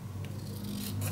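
Scissors snip through scrapbook paper in a quiet indoor setting, faint soft cuts over a low steady hum.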